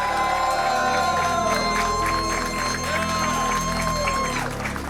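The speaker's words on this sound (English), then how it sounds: "as this crowd's going crazy" A crowd in a university hall in Austin cheers and shouts for the Georgia Tech champions at a Marvel Rivals collegiate esports event, with loud sustained roaring, whoops and clapping throughout, and a voice briefly rising over it.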